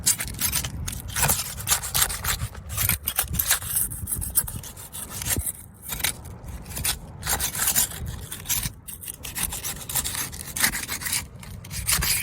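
Flat trowel prying and tearing up brittle, delaminating asphalt roof shingles, a loud close rasping scrape with repeated rough tearing strokes and brief pauses throughout.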